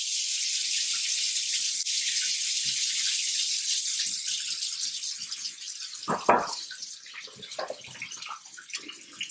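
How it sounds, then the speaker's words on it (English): Water runs steadily from a tap into an apple cider vinegar mixture, a bright hissing stream that ends with a few splashes and clinks of handling, no voices. "I'm about to put water into it."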